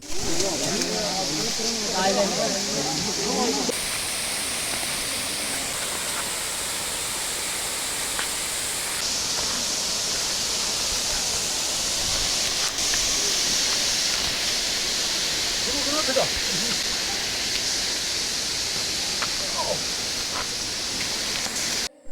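Palur Kotta waterfall rushing in a steady, loud hiss of falling water that continues under a person talking throughout.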